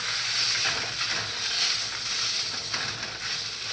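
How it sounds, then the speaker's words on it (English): Steak frying slowly in a pan, a loud, dense and continuous sizzle and hiss that stays steady throughout with no talking. "Slow cooking steaks, you'll always get a very tender steak."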